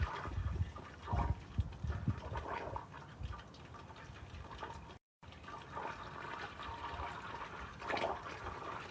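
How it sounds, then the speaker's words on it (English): Homemade ghee cooking in a pot as butter clarifies, giving a soft, steady bubbling and sputtering with irregular pops and bursts, faint and close throughout. "So it started bubbling and making some interesting sounds."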